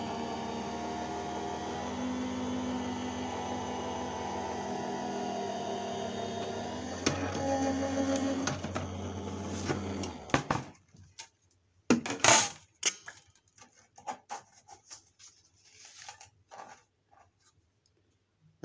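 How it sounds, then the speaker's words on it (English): A craft die-cutting and embossing machine run in reverse gives a steady motorised whirr for about ten seconds, then stops. Scattered clicks and small handling knocks of the plates follow. "I'm just reversing mine because my machine's got a reverse on."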